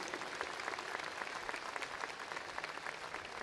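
Sustained applause from a graduation audience for Speaker Welch at a College of Law commencement ceremony, steady dense clapping throughout with no voices over it.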